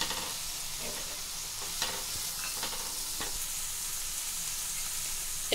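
Banana flower frying in a pan with turmeric and curry spices, a dense, even sizzle held at steady loudness, with a few faint stirring clicks and no voices.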